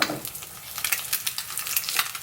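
An egg frying in ghee in a pan, sizzling and crackling steadily and up close, with bright spattering pops throughout and no voices.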